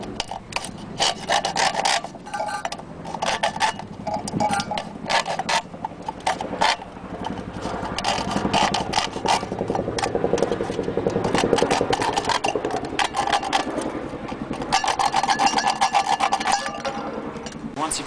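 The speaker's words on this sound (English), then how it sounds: "So taking a knife and being very careful not to cut yourself," A knife saws and scrapes through a tin can, rapid gritty rasping strokes repeating steadily and close up for many seconds, with no voices.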